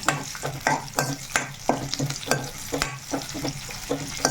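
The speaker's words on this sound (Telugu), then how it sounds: "తాలింపు దినుసులు ఎండమిర్చి కరివేపాకు ధనియాలు ధనియాలు కదండి జీలకర్ర వెల్లుల్లిపాయలు వేసేసుకొని చక్కగా ఇవ్వండి" Dry red chillies, curry leaves, coriander seeds, cumin and garlic sizzle in hot oil for a tomato chutney, close crackling broken by regular spatula scrapes and knocks against the pan, about two strokes a second.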